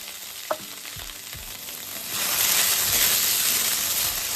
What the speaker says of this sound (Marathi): तसा भात हा ऑलरेडी शिजलेला आहे, पण जरा तुपाचा फ्लेवर येण्यासाठी हा अर्धा मिनिट आपण परतून घेऊया